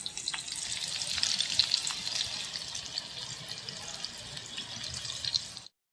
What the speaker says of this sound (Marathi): हे असे एक एक मग फ्राय करायचे.